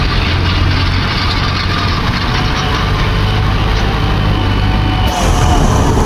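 A tractor engine runs steadily and loudly at close range, a continuous low rumbling drone with a slight shift in tone near the end.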